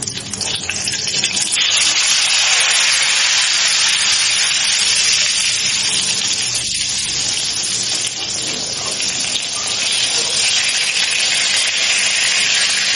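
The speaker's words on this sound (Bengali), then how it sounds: "ওইদিকে আবার একটু বেগুন ভাজা হচ্ছে" Slices of eggplant (brinjal) frying, giving a loud, steady, broadband sizzle and hiss that runs unbroken from start to finish with no clear talk over it.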